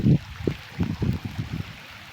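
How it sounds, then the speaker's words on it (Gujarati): Heavy evening rainwater runs across a farm field, a close, uneven gurgle of short watery bursts that rise and fall. "આટલું પાણી પડ્યું મિત્રો, આટલો વરસાદ સાંજે આવ્યો ફૂલ"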